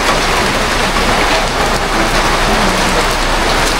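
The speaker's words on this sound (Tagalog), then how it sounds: "ang lakas ng ulan" Heavy rain pours steadily outdoors on a rural farm, a loud, dense, unbroken hiss with no voices, filling the whole stretch.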